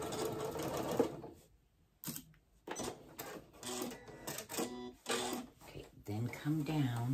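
Home sewing machine stitching pajama pants fabric in several bursts, running forward, pausing, then reverse stitching, with someone talking over parts of it.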